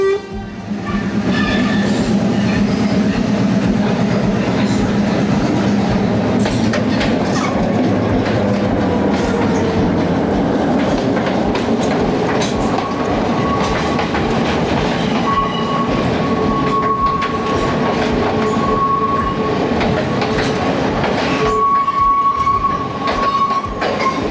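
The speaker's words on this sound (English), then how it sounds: "Here comes the train." A train rumbles past on the rails at Nine Arch Bridge, loud and close, with rhythmic clickety-clack, screeching wheel tones and a sustained high squeal near the end.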